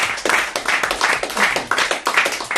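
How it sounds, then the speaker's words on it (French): A crowd claps steadily in dense, continuous applause, loud and close, without voices standing out. "on vous embrasse, on vous applaudit tous les deux"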